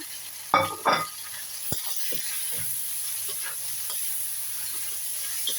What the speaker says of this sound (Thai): ใส่ต้นหอมเข้าไปผัดนะคะ